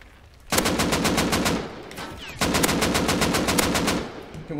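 Rapid automatic gunfire from several MP5 submachine guns in the video game Rust, two long sustained bursts of dense, loud, evenly spaced shots with a brief pause between them.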